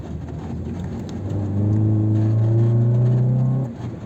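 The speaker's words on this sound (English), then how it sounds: "it is just a Civic with a very small engine, but it sounds good to me." A small-engine Honda Civic with an aftermarket loud exhaust revs up with a loud, raspy exhaust drone, holding steady for a couple of seconds before dropping back to idle.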